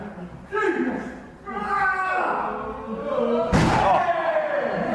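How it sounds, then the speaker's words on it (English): A wrestler body slams an opponent onto the ring mat in a UK wrestling show, one loud, sharp slam landing amid continuous commentary and crowd noise. "But now he's body slammed Uther, and now he has finally got the tag to Ian Creed."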